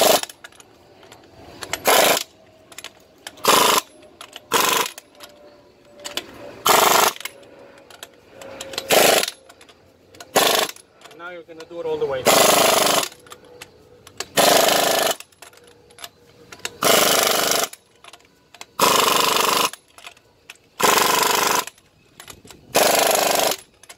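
Impact wrench or similar power tool tightening wheel nuts on a car hauler trailer during a disc brake install: repeated loud, close bursts of rapid hammering, each lasting about a second, separated by short quiet gaps.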